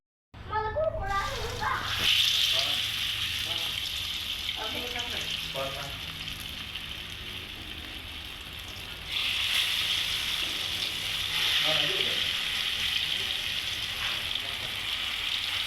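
Coriander vadi pieces fry in hot oil on a gas stove, giving a loud, steady hiss that swells partway through, with faint voices talking in the background.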